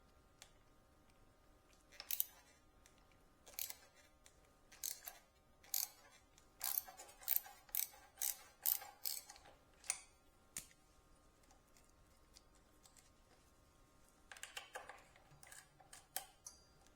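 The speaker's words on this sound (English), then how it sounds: "For the inner side you need a smaller size of socket wrench due to the mount of the speed sensor." A socket wrench ratchet loosens the front wheel bolts on a Ducati Multistrada 1260S motorcycle, producing faint bursts of quick clicking strokes with quiet pauses between them.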